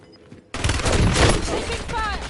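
Gunfire bursts loudly in Black Ops 7 Warzone, a dense rapid volley of shots that starts abruptly and continues close up, with a brief voice line underneath.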